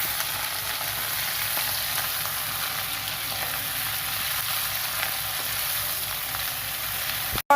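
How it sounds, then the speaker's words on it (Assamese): Pigeon meat frying in a pan in a village kitchen, a steady, close, even sizzle and crackle that runs unbroken with no talk and stops abruptly at the very end. "আৰু ইয়াত ভাজি আছোঁ"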